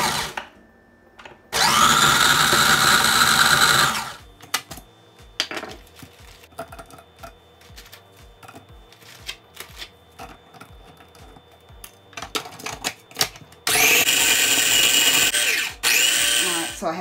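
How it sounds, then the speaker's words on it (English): Ten Oreo cookies grind into crumbs in a kitchen blender in two loud whirring bursts, with quieter clattering and handling noises between them. "I add 10 Oreos in the blender, blend well"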